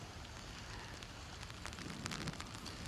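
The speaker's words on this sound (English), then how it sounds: "This rain has been coming down steadily, I would say, for at least the past hour." Steady rain falling outdoors in Mesa during East Valley flash flooding, a dense hiss with scattered close drops and small patters growing slightly heavier toward the end, no voices.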